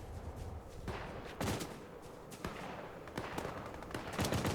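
Gunfire in the Fortnite video game, rapid bursts of shots and distant volleys cracking irregularly over a few seconds, moderately loud with a busy game background.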